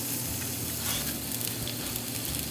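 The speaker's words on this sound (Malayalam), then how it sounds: "അതിലേക്ക് 2 സവാള അരിഞ്ഞു വെച്ചത് ഇട്ട് കൊടുക്കുകയാണ്" Chopped onions dropped into hot ghee and oil for an egg biryani, sizzling loudly and continuously with a bright, bubbling hiss from start to finish.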